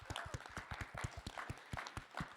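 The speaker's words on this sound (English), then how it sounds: "Can you all give my son an applause?" Audience applause at a sickle cell disease panel discussion, quiet and fairly distant, with scattered individual claps in an irregular rhythm rather than a dense ovation.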